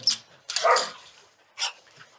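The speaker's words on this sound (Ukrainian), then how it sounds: "Будуть гавкати, але ну кусати не будуть" A few sharp dog barks, three short bursts with gaps between, fairly close and moderately loud, no talking.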